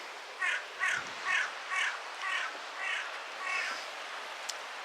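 A crow caws about seven times in an evenly spaced series, fairly close and clear over a soft outdoor background, with each call growing slightly longer and fainter toward the end.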